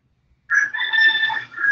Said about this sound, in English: I like hearing the rooster in the background.